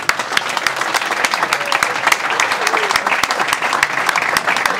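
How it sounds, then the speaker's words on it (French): A crowd at a handball season launch applauds steadily, dense clapping filling the whole stretch at a loud, even level with faint voices mixed in. "Vous pouvez les applaudir."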